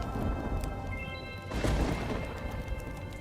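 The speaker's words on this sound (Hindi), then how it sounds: "जोर जोर से बिजली कड़कने लगती है" Cartoon storm effect of steady rain hiss with a thunder crash swelling midway, dense and continuous throughout with no voices.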